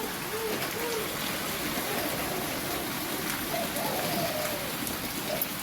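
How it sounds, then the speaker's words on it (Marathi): Steady heavy rain hisses without pause, with a few faint bird calls breaking through in the background. "मस्त पाऊस चालू आहे"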